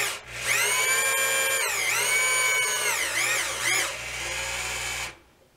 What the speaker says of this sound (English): So we'll go ahead and mill that edge off of there.